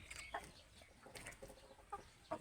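Purebred Thai laying hens cluck faintly in short scattered bursts against a quiet farmyard background, with no talk over them.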